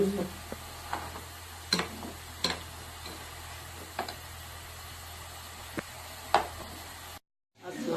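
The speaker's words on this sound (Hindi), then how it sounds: "अभी अम्मी कद्दूकश कर रहे हैं" Carrots are grated by hand for carrot halwa (gajar ka halwa) in a home kitchen, giving irregular scraping strokes and light ticks roughly every second over a steady low hum, with a short silent gap near the end.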